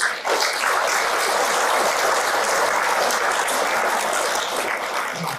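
Audience applauds during a Buddhist dharma talk, sustained dense clapping from a large crowd in a hall, steady and fairly loud before tapering slightly at the end.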